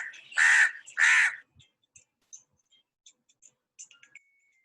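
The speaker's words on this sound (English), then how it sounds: "Big black crow, you're a noisy bird." Crow giving two loud, harsh caws close together, followed by faint scattered ticks and small sounds in near silence.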